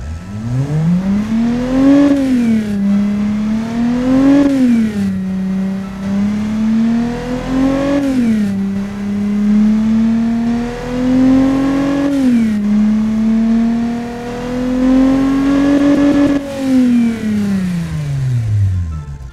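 A classic car with a Ford 2.8-litre Capri Injection engine revs up and down repeatedly, pitch rising and falling in waves over a steady loud drone, close and continuous.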